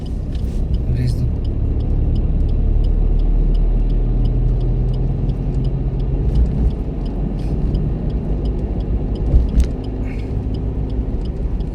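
A car drives along a road with its engine running under a steady, close rumble; gear changes and acceleration blend into the continuous road noise, and voices can be heard talking over it.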